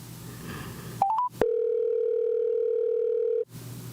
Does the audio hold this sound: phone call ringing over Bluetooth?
yes